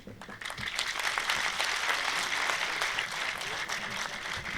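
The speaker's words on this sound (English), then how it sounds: "please applaud with full vigor" A hall audience applauds vigorously at a speech about Kashmir, a thick, continuous roar of clapping that swells in the first moment and then stays full and steady.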